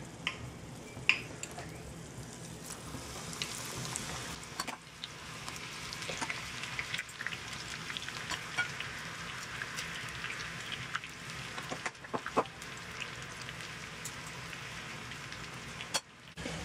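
Hush puppies with onion mixed into the batter frying in hot oil, a steady close sizzle and crackle running throughout with occasional sharper pops.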